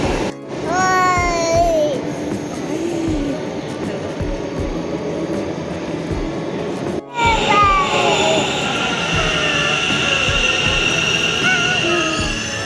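Steady rumble of a Bengaluru metro train in motion heading to Chickpet, with wheel squeals and a brief drop as it passes a gap, voices murmuring faintly underneath.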